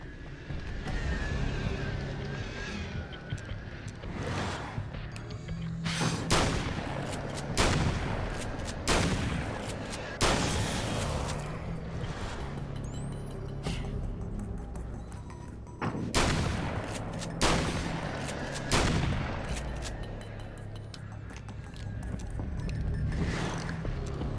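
Bursts of SMG fire ring out in the video game Alan Wake's American Nightmare, with repeated loud volleys spread across a steady background of ambient rumble and wind.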